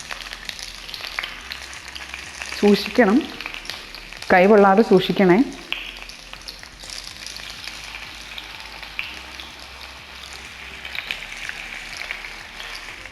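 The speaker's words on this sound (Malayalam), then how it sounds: "എണ്ണ ഇവിടെ നന്നായി ചൂടായി വന്നിട്ടുണ്ട്. അതിലോട്ട് നമുക്ക് ഓരോ പീസസ് പെറുക്കി വെക്കാം." Chicken wing pieces frying in hot oil in a pan, a steady soft sizzle throughout, with someone speaking briefly over it.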